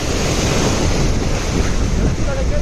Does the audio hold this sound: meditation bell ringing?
no